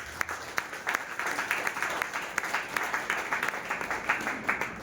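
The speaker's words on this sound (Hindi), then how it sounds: "एक बार उनके लिए भी जोरदार तालियां" An audience applauds at an RCM gathering, a steady, moderately loud wash of many hands with individual claps popping through, heard alone without talk.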